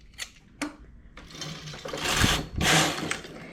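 A domestic knitting machine carriage slides across the needle bed working a lace pattern, giving a few short clacks, then two longer rasping sweeps, close and alone.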